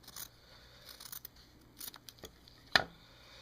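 Scissors snip through fabric to trim a quarter-inch seam allowance, giving a series of short, close crisp cuts with a sharp louder snip near the end and no talk.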